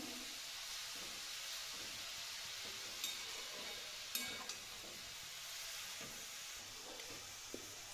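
Grated carrots are stirred in hot ghee for carrot halwa, with a steady soft sizzle and faint scraping of the spoon on the pan, plus a few sharp clinks.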